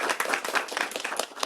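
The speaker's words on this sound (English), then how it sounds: "So let's all give him a welcome round of applause." A seminar audience at the Maryland Robotics Center applauds to welcome a speaker, a dense, steady round of many hands clapping together for a moment.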